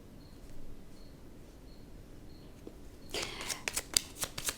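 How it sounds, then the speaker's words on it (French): Rhythmic high insect chirps, like crickets, pulse faintly and steadily in the background, then a burst of crisp card-shuffling clicks takes over near the end. "Est-ce que vous entendez les grillons ?"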